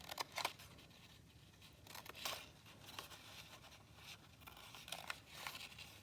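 Scissors snip through paper while cutting out a second small rectangle, a paper turkey foot for a shape craft, giving several quick close crisp cuts with paper rustling in between.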